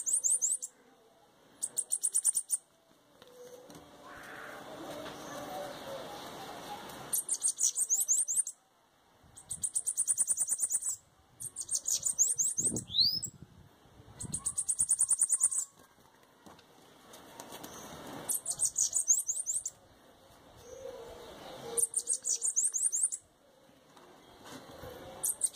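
Bananaquits chirp and sing in rapid, high, thin trilling phrases that come in repeated bursts with short pauses, close by, with faint rustling and fluttering between songs.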